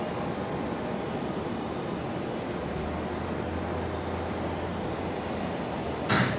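An Airbus A380 taxis at night at Brisbane Airport, a constant loud roaring rumble of jet engines with a low hum joining midway and a brief louder burst at the end.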